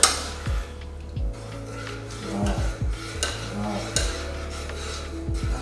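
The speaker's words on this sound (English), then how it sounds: "because of my metal spoon, you seem to hear the funny sound of it frying here and there" Metal spoon scraping and stirring in a frying pan, with repeated rasping strokes over a steady sizzle and occasional faint thuds.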